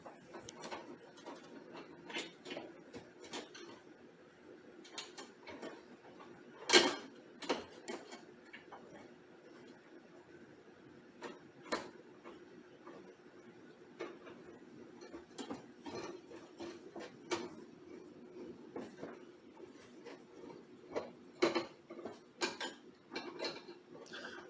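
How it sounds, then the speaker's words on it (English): Screws are driven in to mount an ashtray body in a car's center console, with quiet, irregular ticks and clicks plus a few sharper knocks across a mostly quiet background. "the first thing is to put these screws in to get the main body of the ashtray"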